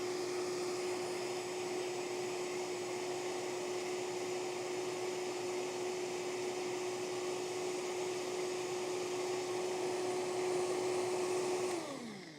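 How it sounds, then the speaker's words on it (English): A Vitamix blender purees a green smoothie at high speed, a loud, steady motor whine held for about twelve seconds before it winds down. "Oh, this is a nice Vitamix."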